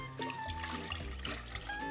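Four cups of water poured into a pot while brewing kombucha, a close, steady splashing pour with a brief change partway through.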